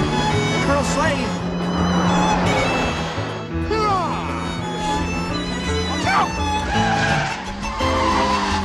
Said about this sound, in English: I also really liked when he drives the Ferrari